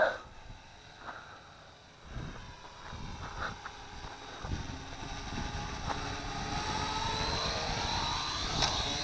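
A Syma X8C quadcopter drone comes in to land into the wind outdoors, its motors giving a thin whine that rises and grows louder toward the end, mixed with steady wind rumble on the microphone.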